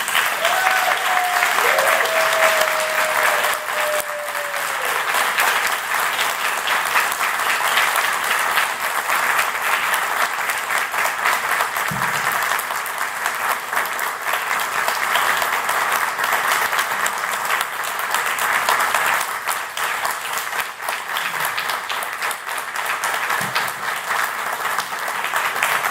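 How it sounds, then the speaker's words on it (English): Sustained audience applause at a dinner gathering, a dense steady patter of many hands clapping for about twenty-five seconds with little variation, a brief tone near the start and a few faint sounds in the room. "receive this applause as our thank you"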